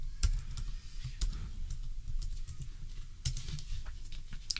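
Fingers type a formula into an Excel spreadsheet on a computer keyboard. The keystrokes are soft, steady and close, with a few louder clacks and no talking.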